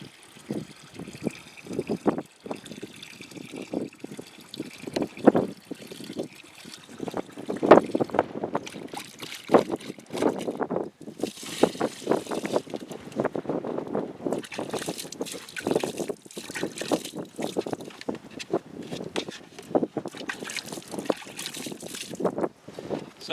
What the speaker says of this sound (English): pour off the excess water